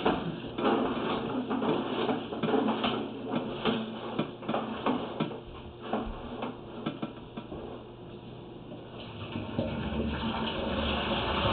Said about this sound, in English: We're going to have the toilet flush to try to wash the camera off real quick.